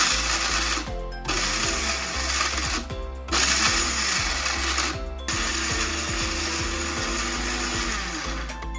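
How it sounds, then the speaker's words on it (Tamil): A mixer grinder whirs loudly in short bursts, stopping briefly between pulses as biscuits are ground to powder, with rattling and knocking inside the jar. "இப்போ மிக்ஸியை வந்து ஆன் பண்ணிக்கலாம்."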